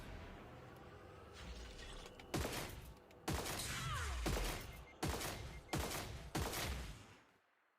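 Sniper gunfire in the game Destiny Rising: a run of sharp, loud shots, about five in quick succession with short gaps, each cracking then fading over a low rumbling battle background.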